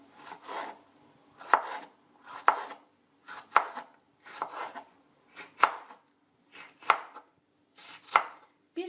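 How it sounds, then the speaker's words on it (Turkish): A knife finely chopping jalapeño peppers for pickle on a cutting board, about a dozen crisp, evenly spaced chops in short clusters, close and clear with no talk. "Öncelikle turşum için biberlerimi ince ince doğruyorum."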